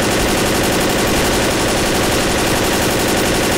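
Continuous loud automatic gunfire in the zombie shooter Left 4 Dead, a dense unbroken stream of rapid shots that fills the whole stretch at close range, with no talking over it.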